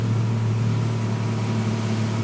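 Steady low engine hum of a motorboat nearing the airport jetty in the Maldives, a continuous droning tone held at an even level throughout.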